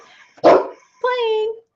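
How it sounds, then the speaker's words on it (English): Puppies playing indoors: one loud, rough yelp or bark burst, then a higher whining, tonal yip-bark, both close and brief, with a faint background voice before them. "puppies playing"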